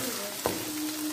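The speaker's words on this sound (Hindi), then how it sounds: "अभी हम ऐड कर देंगे इसमें गर्दने। बिस्मिल्लाह रहमान रहीम, और इसको अच्छे से भून लेंगे।" Goat neck pieces frying in a pot with browned onions for a pea and potato curry, giving a steady, moderate sizzle with one brief clatter partway through.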